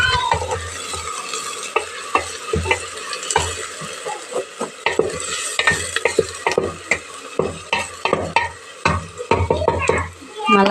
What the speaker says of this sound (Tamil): வெங்காயம் வதங்கிட்டு இருக்கு, நல்லா வதங்கட்டும்